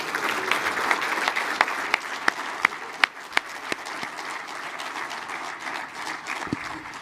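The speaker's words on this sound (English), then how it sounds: "big round of applause" A large audience at the AUSA 2024 Warrant Officer Professional Development Forum gives a sustained round of applause, steady dense clapping with a few sharp, louder claps standing out near the front.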